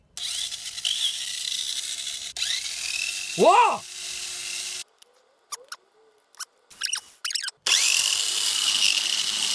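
A Mini 4WD toy car fitted with a Hyper-Dash 3 motor and gold terminals spins at high speed, a thin high whir that starts and stops in short bursts between silences, with a brief excited exclamation partway through.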